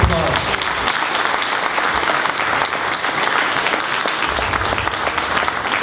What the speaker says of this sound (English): Let's give them and Dvorah Livsha Bat David a big round of applause.